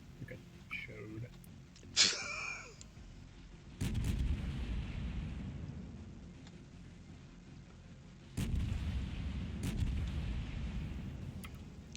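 Naval gunfire from warships in a battle game, with heavy low booms and rumbling blasts near 4 and 8.5 seconds that roll on afterward, plus a brief voice sound early on.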